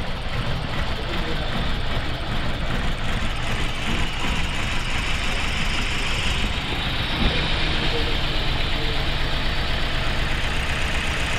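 Toyota Altis engine idling roughly with strong vibration that shakes the whole body, a steady low rumble running close and loud throughout with no break.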